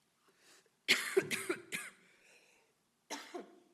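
A person recovering from a cold coughs several times in a quick cluster, then once more after a pause, close and fairly quiet in an otherwise silent room.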